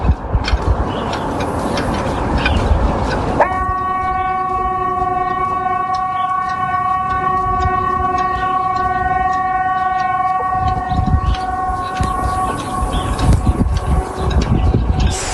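A civil defense siren sounds steadily for several seconds, a loud sustained multi-tone wail over constant rumbling background noise, then fades as the noise continues.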